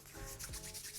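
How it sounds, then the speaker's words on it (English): Oreo cookies broken by hand into a bowl for no-churn ice cream: a brief, close, soft crumbling and rubbing crunch, quiet and alone. "Just gonna break the Oreos in"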